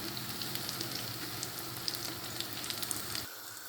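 Cauliflower pakoras pressed and frying in hot oil, a continuous fine crackling sizzle with scattered pops, steady and close, that cuts off sharply near the end.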